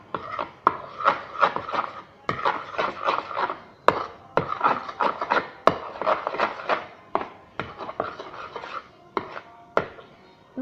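Fluffy slime mixed with shaving foam in a bowl, heard as repeated rhythmic scraping and rubbing strokes in bursts with short pauses and a few sharp knocks of the utensil against the bowl.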